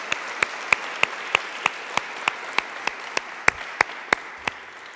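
Steady applause fills a small hall after a talk at a Spanish-language academic conference, with sharp individual claps standing out in a regular rhythm over a softer wash of hands throughout.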